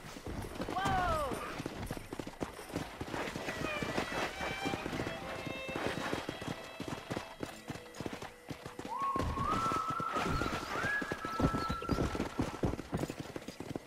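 Hooves clatter in fast continuous clip-clop as horses gallop in the Red Dead Redemption video game, with whinnies cutting in and voices talking over the run.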